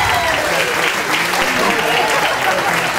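A crowd at a dance competition claps loudly and continuously in sustained applause for the dancers, a thick wash of hand claps filling the hall, with a voice faintly present beneath it.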